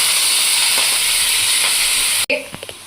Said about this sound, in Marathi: आता आपण कढाईमध्ये तेल टाकणार आहोत 1 चमचा आणि पालक वाफवून घेणार आहोत.